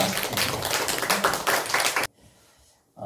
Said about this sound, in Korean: 박수 주시면 감사하겠습니다.